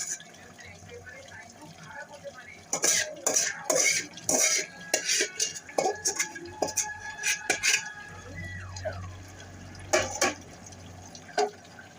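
Fish cooking in a pan is gently turned with a utensil, giving scraping, clinking metal strokes in irregular bursts over a low sizzle, near and fairly loud.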